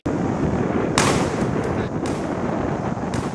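Loud, dense bursts of gunfire and explosions from Myanmar navy ships crack out over a roaring background, with a few sharper blasts standing out at intervals.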